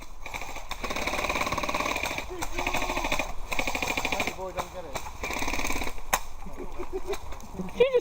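Airsoft guns fire in rapid bursts during an outdoor airsoft game, sharp clattering shots mixed with loud nearby chatter and shouting from players.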